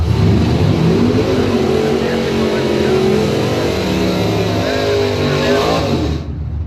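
Drag race cars, a 2003 Dodge 1500 pickup and a 1987 Corvette, roar loudly and continuously at the strip, engine tone rising as they pull away, with an announcer talking over the noise before a sudden cutoff.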